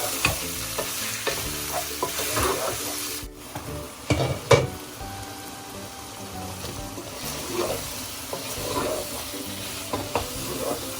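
Meat frying and being stirred for haleem with yogurt and whole garlic, a steady close sizzle under repeated scraping stir strokes and occasional louder clanks, no talk.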